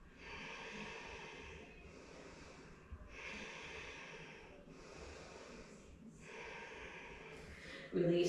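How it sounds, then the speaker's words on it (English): Slow, deep yoga breaths come close and quiet in a calm practice setting: several long, even inhale-exhale cycles with brief pauses between them, and a louder burst at the very end. "And breathe here."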